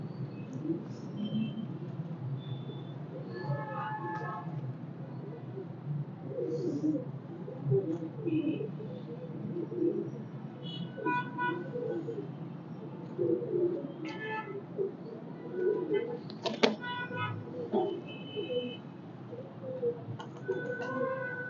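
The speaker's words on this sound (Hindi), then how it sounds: "ये कबूतर मेरे अपने बनाए हुए कबूतर हैं" Soft, repeated cooing of home-bred pet pigeons over a constant low background hum, with occasional sharper chirps and clicks scattered throughout.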